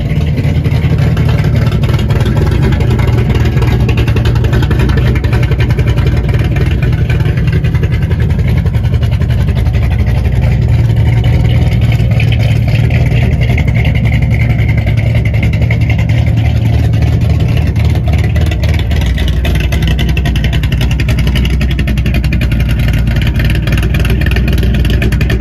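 A 1964 Mercury Marauder coupe's engine rumbles loud and steady through its dual exhaust, a deep sustained throb with rising and easing revs that runs unbroken for the whole stretch.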